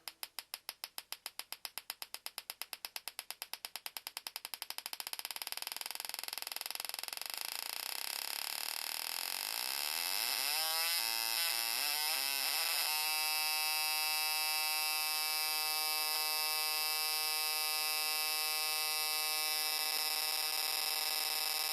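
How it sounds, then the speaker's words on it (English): An LS2 ignition coil from a Yukon fires its spark plug on a test rig, running from rapid distinct snapping pulses to a continuous high-pitched electrical buzz as the rate climbs, then holding a steady whine. "We have the LS2 coil hooked up, and let's do a high RPM test on it."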